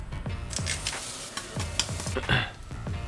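Garlic frying in grapeseed oil in a pan, close up: a bright crackling sizzle with quick scraping stirs and clinks of a utensil, no voices.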